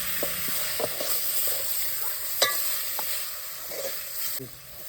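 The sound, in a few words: mutton stirred into fried masala paste in a pot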